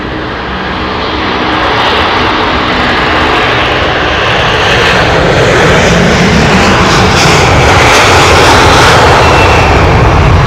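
An airliner taking off at London Heathrow Airport, its engines a loud, broad roar that builds steadily and stays powerful to the end, heard close with no voices.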